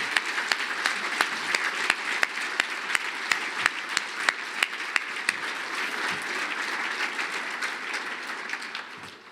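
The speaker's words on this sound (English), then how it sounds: "let's give us one last standing room of applause" A conference breakfast audience applauding, with dense clapping from many hands that holds steady for several seconds and then tapers off slightly near the end.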